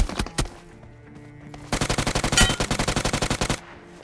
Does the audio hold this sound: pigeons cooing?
no